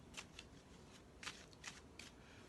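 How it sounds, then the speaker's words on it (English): Tarot cards being shuffled, a deck riffled and cut in several quick, crisp bursts of papery flutter at close range, with no voices. "I'm going to shuffle them up first"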